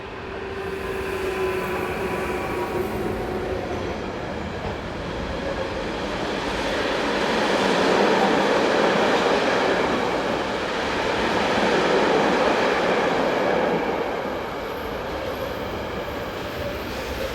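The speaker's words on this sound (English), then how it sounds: "MRCE Dispolock hire locos numbers 1216953 and 182522 are paired up on this westbound Freightliner service bound for the Slovenian port of Koper." A westbound Freightliner freight train hauled by two paired MRCE Dispolok hire locomotives rumbles past with a steady roar of wheels and wagons that swells as it draws near, then eases slightly, with no voices.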